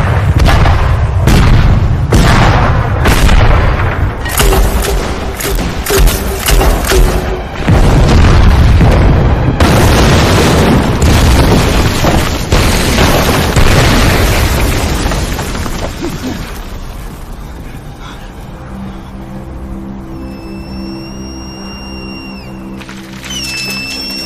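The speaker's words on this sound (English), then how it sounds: "Attack with full force. Tanks, open fire. Open fire!" Tank cannon fire and explosions in a war-film battle at a bridge: loud, repeated booms and blasts in rapid succession over the first half, then fading to a quieter rumble with distant tonal sounds.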